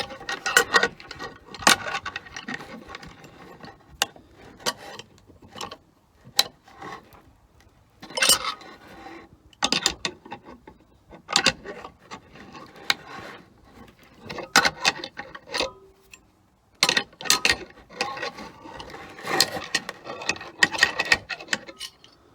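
Wrench turning eye bolts on a DIY target stand, giving repeated metallic clicks, scrapes and clanks in irregular bursts, near and without talk.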